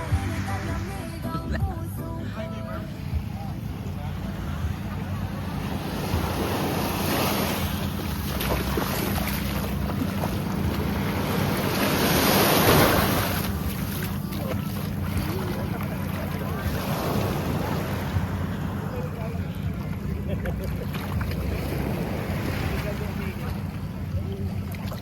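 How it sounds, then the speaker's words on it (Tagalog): A boat ride off Zambales: a constant engine drone and wind rush with water splashing and waves slapping the hull, loud and close throughout, swelling briefly midway, while people talk over it. "Tumatalsik yung tubig."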